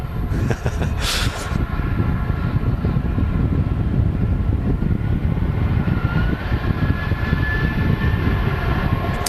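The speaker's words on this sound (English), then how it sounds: "EasyJet A320 just arriving here" EasyJet Airbus A320 jet arriving at Manchester Airport, a loud, steady engine roar that fills the whole stretch, with a brief sharp burst of noise near the start.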